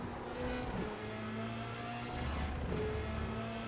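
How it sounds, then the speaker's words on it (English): Racing car engine holding a steady high-pitched drone at speed on a straight in iRacing, a continuous close whine with slight pitch shifts as it slows, no talk. "240 kilometers per hour down this straight, and now I'm sort of down to 220."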